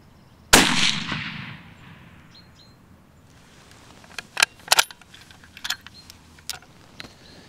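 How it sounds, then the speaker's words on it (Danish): A rifle fires a loud, sharp control shot whose echo rolls away over several seconds, followed by quieter clicks and knocks of handling at the range while preparing for roe buck hunting. "nu skal der altså lige skydes nogle flere kontrolskud"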